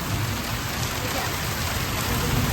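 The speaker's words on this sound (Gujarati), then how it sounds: "ફૂલ વરસાદ ચાલુ થઈ જશે ભાઈ આમાં તો" Heavy rain pours down steadily at night during a thunderstorm, a dense continuous hiss and patter filling the whole scene without a break.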